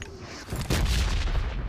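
Red-zone artillery bombardment in PUBG Mobile rumbles as a dense, booming barrage of distant explosions, growing heavier partway through and continuing steadily to the end.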